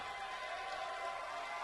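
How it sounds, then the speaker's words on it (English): Steady wash of applause from a college basketball student section cheering a cheerleader, held at an even moderate level with no breaks. "the cheerleader gets a big round of applause from the student section"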